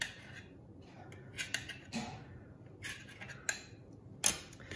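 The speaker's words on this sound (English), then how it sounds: "You can also have them use the scissors they have in their kit to cut it." Scissors snip a play-dough snake in a few sparse, close clicks and scrapes, with a sharper snap near the end and no talk.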